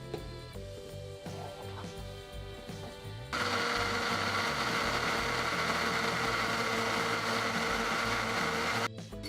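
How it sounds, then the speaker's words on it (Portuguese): A kitchen blender whirs to life after a few seconds of quieter mechanical hum, then runs loud and steady while blending a yogurt pâté with oregano and black pepper, stopping abruptly near the end. "E é só liquidificar tudo."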